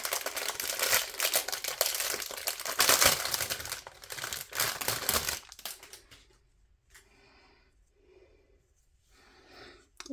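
Crinkly plastic packaging being torn open and crumpled close up around a roll of woven, plastic-coated masking tape for embroidery, loud rustling for several seconds, then quieter intermittent crinkles and handling.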